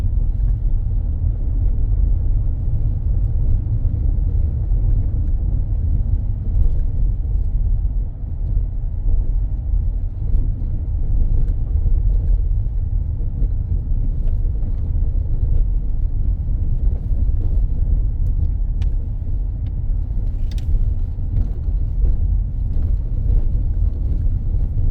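A car drives through small residential areas in the Parish of St. John, Barbados, with steady, close engine and road rumble throughout and no talking.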